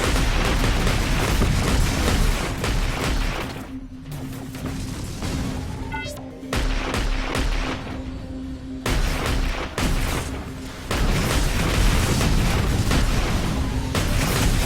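Rocket explosions in the mech combat game Heavy Gear Assault: dense, loud booming blasts roll almost continuously, broken by a brief lull with a falling whistle before the barrage resumes.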